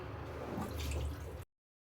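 Ajwain and tulsi leaves being washed under a running tap, a steady close splash of water that cuts off abruptly, then briefly returns.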